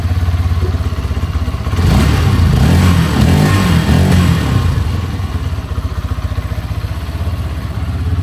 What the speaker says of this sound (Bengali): সঙ্গে সঙ্গে আমি আপনাদেরকে এক্সস্ট সাউন্ডটাও শুনিয়ে দিচ্ছি।